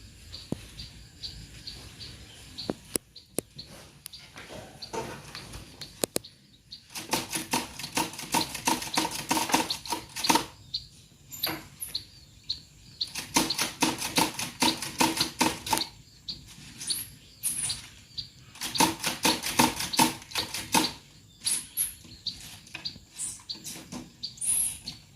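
Typewriter keys clatter in rapid bursts while a script is typed, a close, sharp mechanical chatter in several runs separated by short pauses, with no talking.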